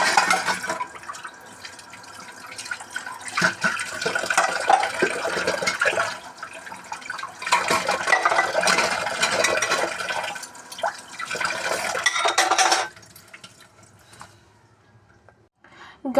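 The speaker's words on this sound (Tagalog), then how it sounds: "Maghuhugas na kami ng plato." Plates being washed under running water from a tap, a steady close splashing stream with breaks and clinks, lasting through most of the stretch before tapering off.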